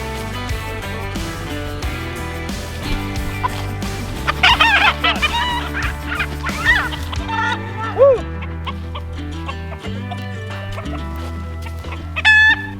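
A rooster clucks and gives short crowing calls in a few separate bursts, heard over loud, steady background music that runs through the whole stretch.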